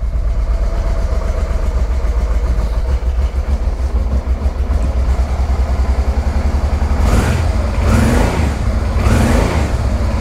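A car engine runs steadily without choke, a loud, even low rumble close by that holds throughout, with a few broadband bursts of extra noise toward the end and no talk.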